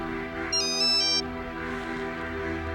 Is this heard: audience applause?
no